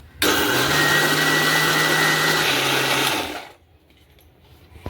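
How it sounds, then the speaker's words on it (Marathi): A mixer grinder grinding chutney whirs loudly and steadily for about three seconds, then winds down and stops, leaving a quiet room. "आता मी मिक्सरला लावून घेते"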